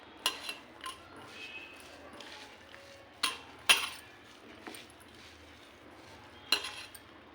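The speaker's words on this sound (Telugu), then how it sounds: "ఉల్లిపాయ ముక్కలు పచ్చిమిరపకాయ ముక్కలు అలాగే క్యారెట్ వేసుకుని మిక్స్ చేద్దాం మళ్ళీ ఒకసారి" Chopped onion, green chili and carrot are mixed in a bowl for meal maker pakodi, with scattered spoon clinks and clatters against the dish and soft stirring between them.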